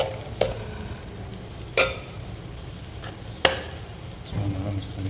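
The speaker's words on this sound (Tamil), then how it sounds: "நல்லா மிக்ஸ் பண்ணிக்கலாம்" Kashmiri red chilli powder is being stirred into a potato mutton curry in hot oil, with a few sharp spoon knocks against the pan over a steady low sizzle.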